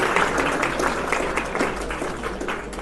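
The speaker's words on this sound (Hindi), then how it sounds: "तो एक बार उनका तालियों से अभिनंदन कर दो।" Audience at a Youth Parliament event clapping, a dense, sustained round of applause from a crowd in a hall, fairly loud and continuous for a few seconds.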